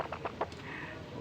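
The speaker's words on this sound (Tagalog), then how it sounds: "Aking alagang manok." Three quick soft clucks from a hen close by, followed by a quiet background hum.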